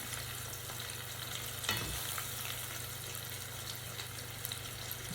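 Pork skin for chicharrón frying in a pan, a steady close crackle and bubbling sizzle that runs the whole time with a few brief louder pops, no talking.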